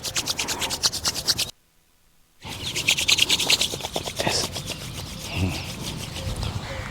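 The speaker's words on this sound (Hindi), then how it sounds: "अच्छे से रब करिए।" Palms rubbed briskly together during a yoga palming exercise give a steady dry swishing friction in fast repeated strokes, close and loud, broken by a short silent pause before the rubbing resumes.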